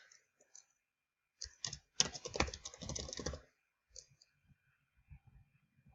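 Computer keyboard typing in quiet bursts: a few isolated clicks, then a dense run of rapid keystrokes, then scattered taps near the mic.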